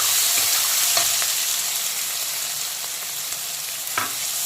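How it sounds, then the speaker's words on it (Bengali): Chopped onion fries in a pan of hot oil with dried red chilli and radhuni seeds, a steady close sizzle with a few soft stirring knocks and no talking. "প্রথমে পেঁয়াজ কুচিটাকে হালকা বাদামি কালার করে ভেজে নেব"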